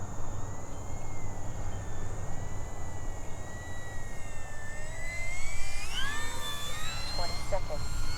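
A Durafly Spitfire RC model plane, an 1100mm 4s warbird, flies slowly at just over quarter throttle, its motor giving a steady whine that shifts in pitch as it passes, with a louder swell near the end.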